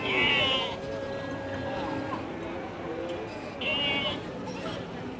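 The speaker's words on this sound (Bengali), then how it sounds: "অনেকগুলো ছাগল আসতেছে দেখাচ্ছি" Goats bleat at a large old livestock market at Kalampur as a herd with kids arrives; two strong, fairly close bleats open and recur near the end over a busy crowd murmur with voices talking.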